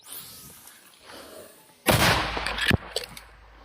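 A 120mm mortar fires a single loud, sharp blast with a rolling boom, followed by a few fainter distant thuds, after a quiet outdoor stretch.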